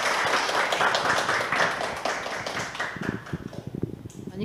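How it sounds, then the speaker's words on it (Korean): A live audience claps after an opening special lecture at a community college in Gwangmyeong, dense applause for a few seconds that thins into scattered claps and taps as it dies away. "여기 계시는 분들 큰 박수 부탁드릴게요"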